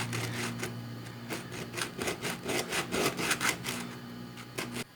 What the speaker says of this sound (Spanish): con una lija de 100 que tengo,